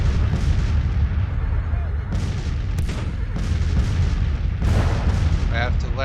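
Artillery booms and rumbles through a Civil War strategy game, with dense overlapping cannon fire and distant blasts over a constant low roar, loud and continuous.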